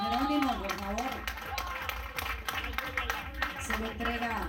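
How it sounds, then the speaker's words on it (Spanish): Applause at a fair's awards ceremony for a cattle rancher, with rain falling, a soft clapping crowd under a loud announcer's voice and background music. "Un aplauso para don Jerónimo, por favor"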